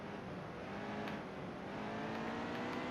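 Heat 2 race car engine holding a steady, loud drone around Martinsville's short track, with no voices over it.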